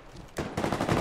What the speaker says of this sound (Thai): ข้างหน้ามีคนยิงกันอ่ะ